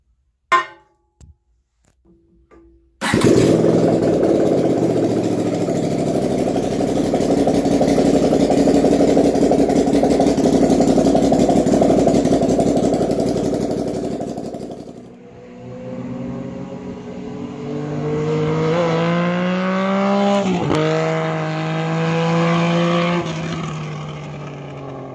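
A Honda GL500 motorcycle engine built into a running coffee table starts with a few brief sputters, then roars loudly at a steady high idle before settling and revving up and down, heard up close with no talking.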